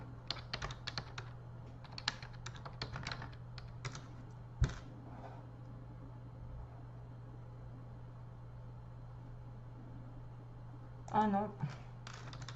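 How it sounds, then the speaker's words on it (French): Typing on a computer keyboard: quick light clicks in uneven clusters, soft and close over a steady low hum, with a long pause, a brief voice and a final flurry of keystrokes. "moi je tape comme ça"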